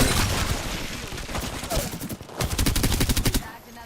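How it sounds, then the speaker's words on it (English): Gunfire in Apex Legends comes as rapid automatic bursts, close and loud, with sharp repeated shots in quick rhythmic strings and a brief lull between volleys, partly under a speaking voice. "Being shot at"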